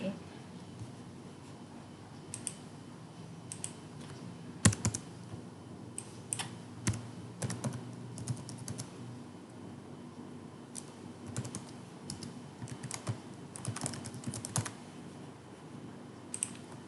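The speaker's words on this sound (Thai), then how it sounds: "อันนี้เราต้องพิมพ์อีเมลเราให้ถูกต้องนะคะ" Keys clatter on a computer keyboard as an email address is typed in, irregular bursts of soft clicks and taps at close range.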